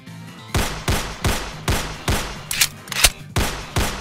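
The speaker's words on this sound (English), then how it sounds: "watch how much worse this sounds with a weaker firing effect" A video game pistol fires with a weak, thin report: about eight evenly spaced shots, each a short sharp crack with a quick decay, loud and close with no talk over them.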